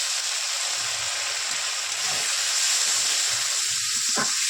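Egg curry masala spiced with turmeric sizzles in a pan after a splash of water, a constant bright hiss with soft spatula scrapes and knocks as it is stirred.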